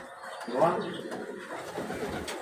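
Pigeons coo softly in short, low burbling calls nearby while someone talks over them.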